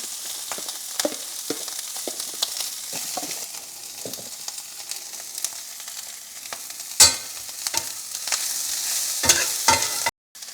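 Meat sizzles and crackles steadily in a hot cast iron pan, with occasional scraping and stirring clatter from a utensil; no one speaks.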